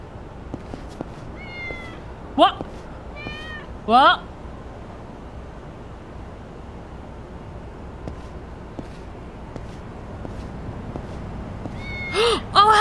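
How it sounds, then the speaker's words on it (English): Cat meowing in the video game Yakuza 6: a few short, clear meows at intervals over a steady background hum of game ambience, with a voice briefly exclaiming between them. "I just heard a cat."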